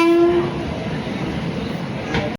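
A train rumbles past a railway crossing at Gondal on the Rajkot–Porbandar line, a steady loud rolling roar with a brief horn note at the start, no talk.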